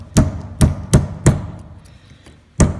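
A hammer pounds a punch to drive the differential pin out of a Dana 30 axle during a Spartan locker install: four loud metallic strikes in quick succession, a pause, then one more close, hard hit.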